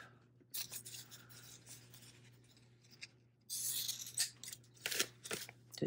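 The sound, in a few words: scissors trimming excess thread on paper tag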